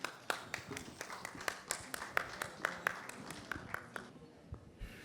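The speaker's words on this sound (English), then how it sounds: "please, everyone, give a huge round of applause for sir" A small group clapping steadily, about a dozen distinct claps in an even rhythm, fairly close, tapering off at the end.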